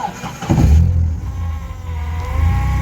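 An Opel Kadett engine catches with a rough burst and settles into a steady low idle, close by, with a loud whirring pump underneath.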